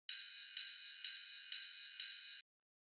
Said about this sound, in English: the next thing we have here is this little ride